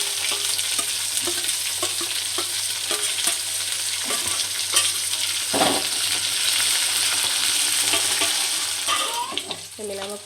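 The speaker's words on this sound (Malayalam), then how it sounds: "എല്ലാ ഇഞ്ചി, പച്ചമുളക്, വെളുത്തുള്ളി എല്ലാം കൂടി ഇട്ട് ജമീലാമ്മ ഇത് വഴറ്റിയിട്ട് പോകണം." Ginger, green chilli and garlic sauté in a pan with a loud, continuous hiss of sizzling oil, punctuated by the scrape and clack of stirring.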